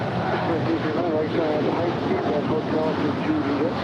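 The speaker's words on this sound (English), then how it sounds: "That is Japan Airlines Flight 8061 Heavy departing to Tokyo Narita. It's a 787-8 Dreamliner." A Japan Airlines Boeing 787-8 Dreamliner departing LAX gives off a steady broad jet roar with wind buffeting, while a voice talks over it.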